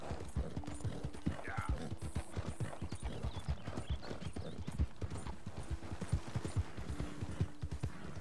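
Horse hooves clip-clop steadily in Red Dead Redemption 2, a rhythmic close trotting beat over a low ambient bed, with a brief voice heard now and then.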